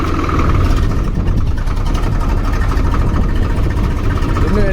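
A Swaraj 733 FE tractor engine runs steadily at close range, a loud continuous low diesel rumble with no breaks and no talking over it.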